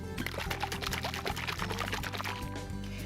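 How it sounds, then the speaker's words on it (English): Chia seed pudding mixture, made with a Herbalife Formula 1 shake, poured into a glass, a steady close liquid pour with clinking and light tapping over continuous background music. "Shake this up just one more time before I pour it in."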